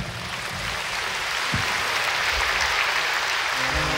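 Sustained applause from a concert audience in a hall, honoring a performer alongside a folk orchestra; broad, even clapping continuing throughout, with a low thump or two underneath.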